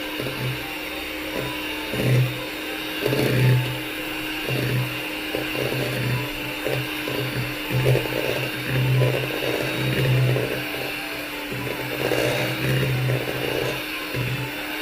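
Brownie batter of cocoa powder, flour, salt and baking powder being mixed, heard as a steady, close whirring drone with soft rhythmic pulses running throughout.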